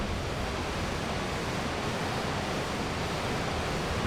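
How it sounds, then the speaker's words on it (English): Waterfall in the video game Abiotic Factor, a steady, dense broadband rush of falling water that stays even and continuous throughout with no talk over it. "It's a waterfall."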